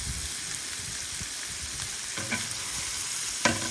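Shrimp fry in a pan for garlic butter shrimp, giving a steady close sizzle with a few scattered pops and scraping stirs, no voices.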